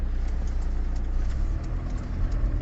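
Steady low rumble of a car engine and road noise from inside a moving car, driving to the bank on a cold winter day of about minus five degrees, continuous and fairly loud with no talking.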